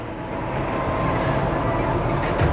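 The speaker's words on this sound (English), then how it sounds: "oh, there's monorail again" A Las Vegas monorail train passes nearby as a steady, broad rumbling roar that holds level for a few seconds and swells slightly near the end, with no talk over it.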